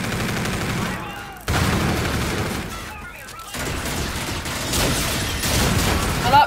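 Sustained gunfire from Call of Duty Infinite Warfare, a continuous rattling burst interrupted by short gaps, with players talking over the shooting.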